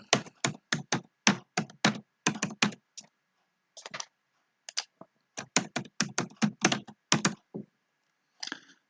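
A password being typed on a computer keyboard, two bursts of quick, close key taps separated by a brief pause, crisp and clear against near silence.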